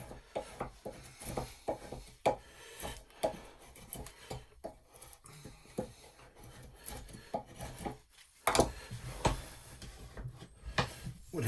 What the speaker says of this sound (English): Doing what we call, I believe, a stop cut.